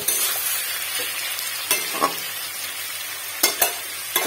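Oil sizzles steadily in a wok while a utensil scrapes and knocks against the metal a few times as fish is stirred, close by, without voices.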